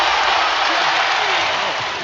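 Steady broadband applause and cheering from a basketball Summer League crowd fills the arena continuously, loud and dense, with a commentator's voice faintly over it.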